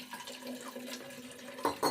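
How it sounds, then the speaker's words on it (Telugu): Water poured into curd to thin it into buttermilk for a buttermilk curry, a short steady splashing pour that swells into two louder gushes near the end. "ఈ పెరుగును కొంచెం వాటర్ వేసుకొని మజ్జిగలాగా చేసుకుందాము."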